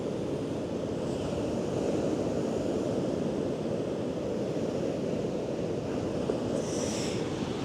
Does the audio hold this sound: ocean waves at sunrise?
yes